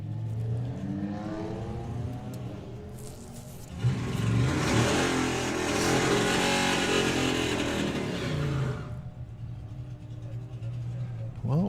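A Mustang and a Camaro drag racing at a drag strip, engines idling then erupting into a loud roaring launch and pass that fades away, with a commentator talking over the engine noise.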